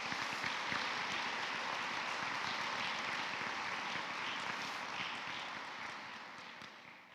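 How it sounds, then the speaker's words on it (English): A large audience applauds at a college of nursing pinning ceremony, a continuous roar of clapping sustained throughout and fading slightly toward the end. "Let's give them a round of applause"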